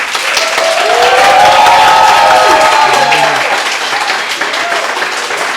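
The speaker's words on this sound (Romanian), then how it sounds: "Să aud aplauze" At a game-show semifinal, the studio audience gives loud, sustained applause with cheering, a whistle-like rising shout above the clapping.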